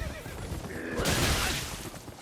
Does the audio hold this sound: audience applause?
no